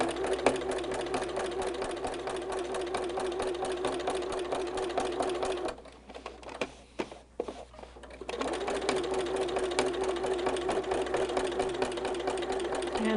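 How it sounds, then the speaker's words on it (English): A sewing machine stitching quilt fabric runs in a rapid steady whir, pausing briefly mid-run with a few clicks and bumps before resuming at the same even pace, close and alone. "And then I'm just going to smooth it out and continue to sew."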